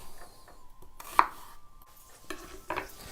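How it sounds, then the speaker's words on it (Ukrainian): A knife chops an onion on a cutting board in a few separate, sharp knocks, close and fairly loud, with quiet pauses between strokes. "А за цей час ми поріжемо цибулю."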